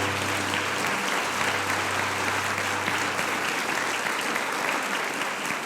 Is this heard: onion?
no